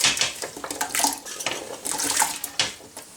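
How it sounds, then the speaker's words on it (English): Chopped apple pieces and water tipped into a metal jam pan for a wartime orange marmalade, giving a few close splashes and clattering knocks in short bursts, no voices. "Chop your apple and then put it into a jam pan with water."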